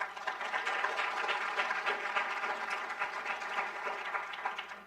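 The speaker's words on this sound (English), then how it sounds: "You can give a round of applause for the film" An audience at a film discussion event applauds the film, a dense, even wash of clapping from many hands that holds steady for several seconds without talk.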